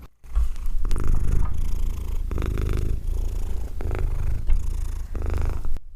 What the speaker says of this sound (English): Can you hear that? That was Hepburn's happy purr